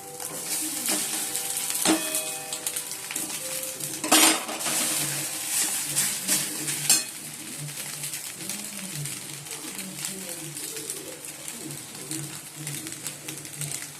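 Pasta going into a hot pan after fried egg in a home kitchen, with metallic clatter of pots and utensils early on and a continuous soft sizzle throughout, with some voice present.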